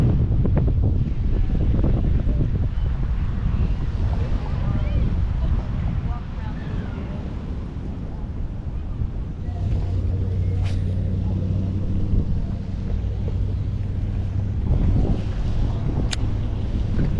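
Wind gusts steadily across a park pond, a continuous rough rumble buffeting the microphone, with a faint low hum partway through.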